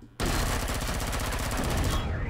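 Rapid automatic gunfire in the sci-fi video game Dawn of Galaxy, a loud, dense burst of rattling shots lasting about two seconds after a brief lead-in.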